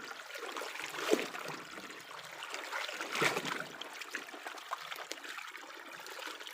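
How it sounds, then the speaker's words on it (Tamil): Running water splashes and trickles steadily, with occasional louder sloshes as cloth is rinsed through it, close by and moderate in level. "நல்லா தண்ணி ஓடையோடு அலசிக்கலாம்"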